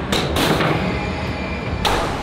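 Several sharp wooden thuds of thrown axes landing against a hard target, with short ringing impacts spaced apart and no voices.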